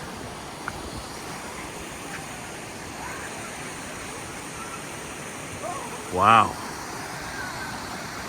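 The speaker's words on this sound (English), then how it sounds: "Some waterfalls down there." Steady rushing of waterfalls among the rocky shut-ins of Johnson's Shut-ins State Park, a constant broadband roar filling the scene, with a brief voice exclaiming near the end.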